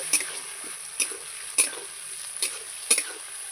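Spoon scraping and stirring a fish-head curry (bhetki fish head chorchori) in a pan, about five separate close scrapes at irregular intervals over a steady soft sizzle, with no talking.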